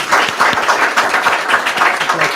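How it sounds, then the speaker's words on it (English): An audience applauds together, a dense steady patter of many hands clapping at close range, filling the whole short burst without letup. "One last round of applause."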